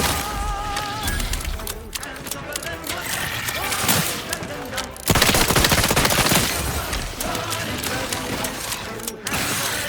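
Revolver gunfire in the video game Outer Worlds 2: repeated sharp shots and bursts mixed with combat noise, loud and dense throughout, under a player's voice.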